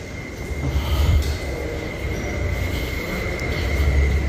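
A train rumbles past at a railway station, steady loud rolling noise with a high wheel squeal held throughout, no talking.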